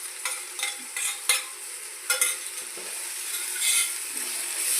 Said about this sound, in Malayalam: അതിന് ശേഷം നമുക്ക് വെളുത്തുള്ളി പേസ്റ്റ്, ജീരകം ഇത് രണ്ടും ഇട്ട് കൊടുക്കാം.